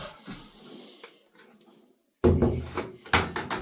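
Dogs whimpering indoors, a few soft whines and shuffles in a hallway, followed by louder scrabbling and knocking movement near a door.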